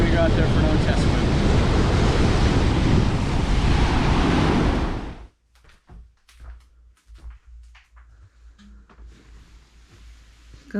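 Loud, close surf at a beach ahead of an IRONMAN 70.3 triathlon swim in Panama City Beach, with waves rushing in steadily and wind buffeting the mic for about five seconds before the sound cuts to quiet with faint rustling and taps.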